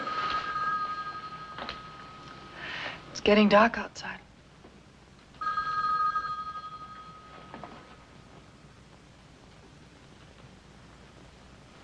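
A telephone bell rings in a quiet room at night, a steady repeated ring heard in bursts beneath a couple's conversation, fairly faint and in the background.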